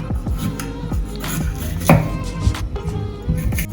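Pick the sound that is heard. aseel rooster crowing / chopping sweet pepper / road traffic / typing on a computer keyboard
chopping sweet pepper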